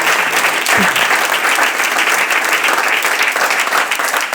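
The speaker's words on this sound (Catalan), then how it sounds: "Eduard Gené, un aplaudiment." Loud, dense applause from a seated audience at a literary reading-tour evening in Santa Coloma de Farners, a steady wash of many hands clapping throughout with no break.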